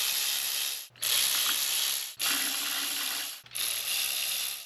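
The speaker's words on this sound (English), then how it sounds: "starting in the middle, we will snug these down." A ratchet tightens intake manifold nuts and bolts on a 3.5-litre Hyundai Santa Fe or Kia Sorento engine, four bursts of rapid, close clicking separated by short pauses as the handle swings back, with no talk.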